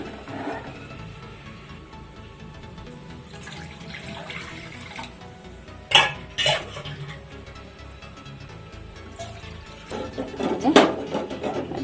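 Running tap water pours steadily over eggs being washed in a home kitchen, with louder splashes and clatters as the eggs are handled under the stream.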